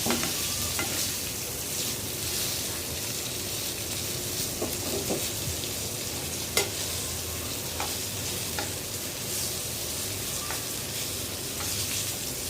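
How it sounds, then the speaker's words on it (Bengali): Hilsa fish frying crisp in hot oil, a steady, dense sizzle with crackling pops throughout, close up and continuous with no talk. "ইলিশ মাছ ভালো করে কড়া করে ভাজলে এই তেল দিয়েও কিন্তু ভাত খাওয়া যায়"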